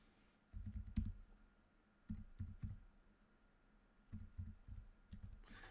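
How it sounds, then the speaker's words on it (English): Computer keyboard typing in three short bursts of quick clicking keystrokes, separated by brief pauses, close and moderately loud with no voices. "By typing in a specific text string, in this case an FCU"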